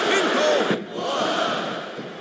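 A wrestling arena crowd in WWE SmackDown vs. Raw 2007 roars loudly in a broad, sustained swell that briefly dips and then rises again, with voices mixed in.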